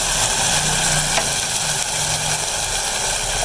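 Masala with tomatoes frying in a pan for aloo ki katliyan, giving a steady, even sizzle that runs unbroken and moderately loud throughout, with no talking over it.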